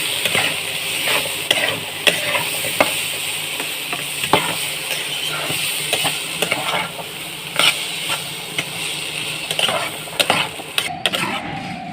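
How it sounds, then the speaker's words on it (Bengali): Small potatoes stirred and fried in a pan, with a steady sizzle of hot oil throughout and repeated scraping and knocking of the spoon against the pan, close and fairly loud. "আবারও ভেজে নিচ্ছি। দেখুন, এভাবে হালকা করে ভেজে নিতে হবে।"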